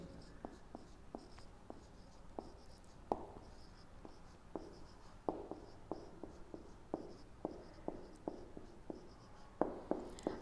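A teacher writes by hand on paper, producing a quiet, irregular series of short scratchy pen strokes with small pauses between words, close up and alone in a hushed room.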